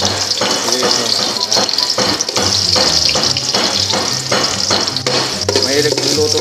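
Onions frying in oil for sotanghon, making a loud, continuous sizzle with rhythmic stirring scrapes against the pan and some background noise.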